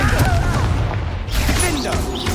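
A Confringo fire spell in the video game Hogwarts Legacy bursts with a sharp booming blast and crackling debris, following quickly after other spell effects, loud and close.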